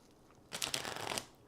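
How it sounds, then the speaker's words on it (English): A deck of cards is shuffled once, a quick close riffle burst lasting under a second after a quiet pause, alone without talk. "I am going to shuffle it good"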